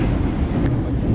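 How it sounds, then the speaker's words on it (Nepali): A train runs through Osaka toward Umeda, heard from on board as a short, steady low rumble with a windy hiss, and no one speaks. "यो चाहिँ हामी ट्रेनमा हिँड्छ है गाइज।"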